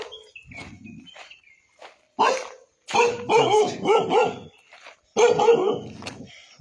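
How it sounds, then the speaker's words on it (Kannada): A dog barks in repeated loud, close bursts at a hilltop village near Guddali Peak in Karwar, Uttara Kannada, with a few faint yips and quieter gaps between volleys. "ಯಾವ ಥರ ಬೊಗಳಕತ್ತೈತಿ ನೋಡಿದ."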